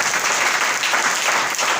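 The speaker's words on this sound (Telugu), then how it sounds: "చప్పట్లు కొట్టిన మరి గట్టిగా" Loud, dense applause from a church congregation fills the whole stretch, steady and unbroken with no voices above it.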